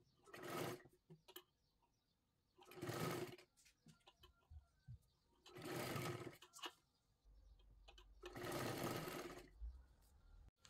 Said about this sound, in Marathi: इथे बरोबर मध्यभागी आपल्याला शिलाई मारून घ्यायची आहे.